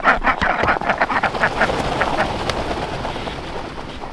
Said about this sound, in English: First we're going to get the ducks to be quiet.